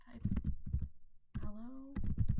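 Computer keyboard typing in quick close clatters, split by a short gap in which a brief tone sounds.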